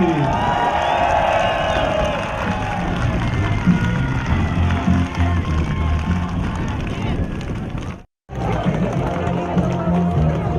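Horse race crowd at a Buryat-breed race for three-year-olds, a loud continuous roar of cheering and chatter filling the air, with a brief dropout near the end before the noise resumes.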